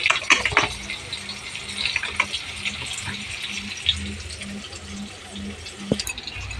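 Water gushes in a steady stream into a cooking pot of moong-style matar dal with fried potatoes, cumin, bay leaf and dried chilli, with a low hum and a few clinks around it.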